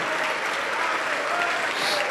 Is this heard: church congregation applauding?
yes